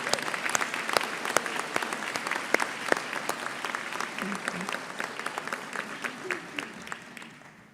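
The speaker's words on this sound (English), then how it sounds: "Give them a big round of applause," At a summer convocation ceremony on the Penticton campus, an audience applauds instructors and faculty with steady, crisp clapping that fills the hall and slowly fades toward the end.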